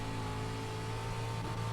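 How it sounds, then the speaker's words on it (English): Dirt street stock race car at Volusia in the iRacing video game, a steady, buzzing engine drone with strong harmonic hum, constant and loud over the whole short stretch, alone with no talk. "I hear his car."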